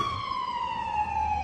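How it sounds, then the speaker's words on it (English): An ambulance siren wails steadily in a long, smoothly falling tone, moderately loud and slightly distant over faint road noise, heard alone without talk. "I don't know whether it sounds more like an ambulance."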